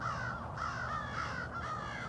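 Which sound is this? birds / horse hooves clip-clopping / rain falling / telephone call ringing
birds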